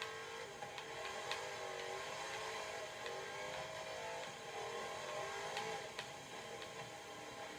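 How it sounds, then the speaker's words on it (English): Engine of a modified car with superchargers, racing in the Forza 7 video game, revving hard and steady with a loud sustained drone, shifting pitch and occasional gear-change blips, with no voices. "I'm really pushing this car."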